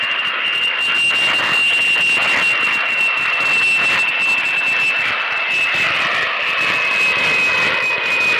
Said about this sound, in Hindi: और ये हमारा प्राइवेट जेट